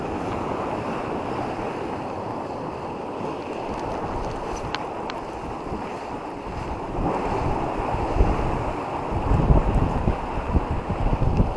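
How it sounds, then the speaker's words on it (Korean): Steady ocean surf roars on, swelling louder near the end, with wind buffeting the microphone throughout. "파도가 칠 때는 또 높아요 파도가"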